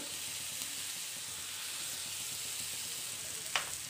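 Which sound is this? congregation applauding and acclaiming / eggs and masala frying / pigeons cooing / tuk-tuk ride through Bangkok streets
eggs and masala frying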